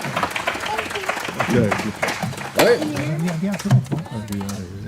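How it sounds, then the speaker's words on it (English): An outdoor Homestead Days audience claps for the Homestead Harmonizers singing group, with a dense patter of applause in the first seconds that fades under someone speaking over a microphone. "One more round of applause"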